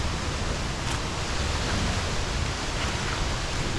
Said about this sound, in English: this is where the waterfall begins anyway